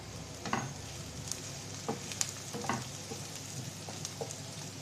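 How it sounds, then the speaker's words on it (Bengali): Onion and a piece of cinnamon frying in a pan until browned, a steady soft sizzle with occasional light stirring taps, close and moderately quiet, no voices. "পেঁয়াজটা লাল লাল করে ভেজে নেবো এক টুকরো দারচিনি"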